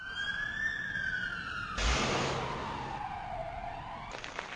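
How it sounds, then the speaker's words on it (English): An ambulance siren wails in rising and falling sweeps, loud and close, shifting partway through to a harsher broadband blare before settling back into a steady swooping tone. "I am an ambulance. I carry sick people to the hospital."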